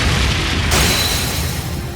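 Brionac attack explosion in Trails of Cold Steel III, a heavy booming blast that hits suddenly and rolls into a long rumbling, crackling roar, loud and close with no talk.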